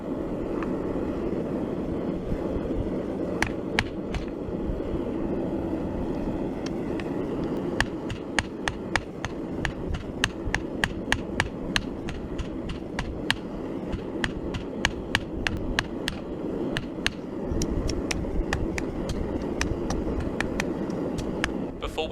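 Steel stock being squared off under a forging hammer for a J-hook, struck in bursts of sharp, ringing blows with an irregular rhythm over a low, steady roar.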